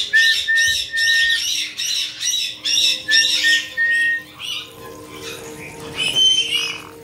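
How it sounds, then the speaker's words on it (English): Pet parrots squawk in a steady series of loud, harsh, rhythmic calls close by, then grow quieter and more scattered, with one louder burst near the end and running water faintly underneath. "These are very smart birds."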